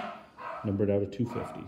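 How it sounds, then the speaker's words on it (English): A dog barks a couple of times in the background, mid-level and slightly distant, underneath someone speaking steadily close to the microphone. "apologies for the dog barking in the background"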